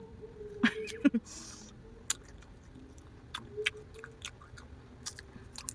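Someone bites and chews crunchy persimmon fruit close by, with a few sharp crisp bites followed by scattered softer chewing crunches and quiet pauses.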